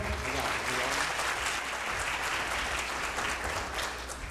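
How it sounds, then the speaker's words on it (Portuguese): A round of applause from an audience at a corporate business event, dense and steady clapping at an even level throughout. "Uma salva de palmas, Marcelo, por favor."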